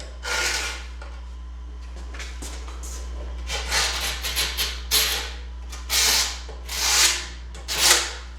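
Utility knife blade scraping along a cut drywall edge, a series of short dry rasping strokes, faint at first and then louder and more rhythmic, over a low steady hum.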